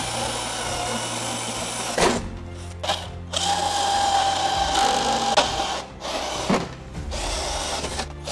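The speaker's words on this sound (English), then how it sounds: "I will have to drill into this" A power drill whirs in several bursts while drilling into a breaker box, stopping and restarting, with a high steady whine in the middle; close and fairly loud, no talking.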